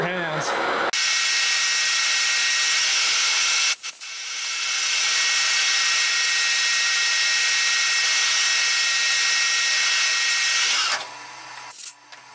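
Scotch-Brite roll lock wheels grind against a rusty pulley groove on a Mustang engine pulley, a steady loud abrasive whir with brief stops at the start, middle and end.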